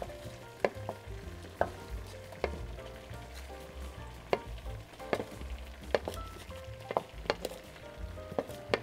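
Vegetables fry and sizzle steadily in a hot pan, a continuous crackling hiss broken by scattered sharp clinks of stirring against the pan, close and fairly quiet.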